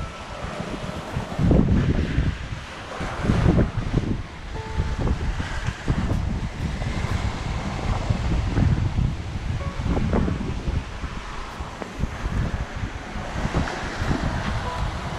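Strong wind and breaking waves rush steadily around a sailboat running downwind on the mainsail alone in about 25 knots at sea, with loud gusting wind noise across the microphone and irregular surges of water throughout.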